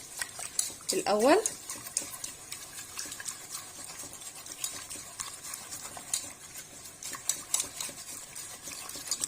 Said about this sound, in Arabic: هقلب بقى الخليط بتاعي ده كله كده